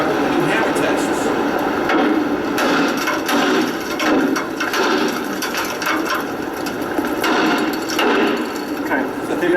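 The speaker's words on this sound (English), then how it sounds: "We walk up and we do hammer tests." A hammer strikes a metal fire escape during a hammer test, with a string of sharp, fairly loud clanks spread over a steady, noisy background and some talking.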